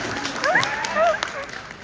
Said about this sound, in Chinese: 这么热情的掌声，谢谢您啊